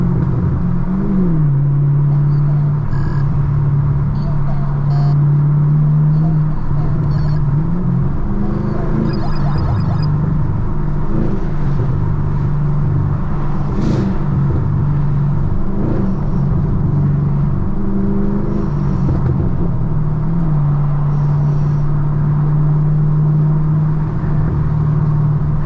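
A loud Chevrolet Camaro SS engine drones steadily during a night drive, its deep rumble rising and falling with revs and shifts, close and continuous throughout.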